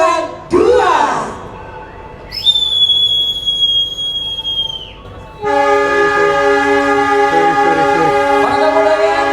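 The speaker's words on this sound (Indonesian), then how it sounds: "Selamat melaju kereta api Pandalungan 2" Pandalungan 2 passenger train departing from a station: a loud sustained horn blast, then a long steady blend of rumbling engine and rolling carriages, with a voice calling out near the start.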